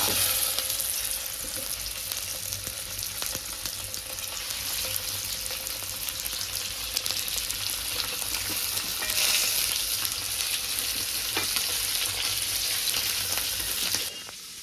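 Fish sizzles in a pan of hot oil with curry leaves, a dense, continuous frying hiss held close and steady throughout, with no voices.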